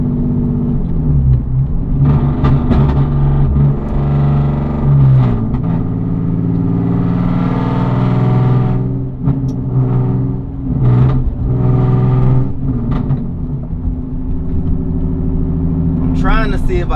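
Engine of a Genesis car revving up and down as the throttle is repeatedly applied and released, a close rumbling drone that swells and eases in uneven cycles, with a person talking over it.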